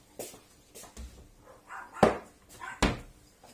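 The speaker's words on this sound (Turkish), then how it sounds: "köpekler niye bağırıyor" Several dogs bark at a distance during Turkish kelle paça soup cooking in a kitchen, giving a few sharp, spaced yelps over a quiet background.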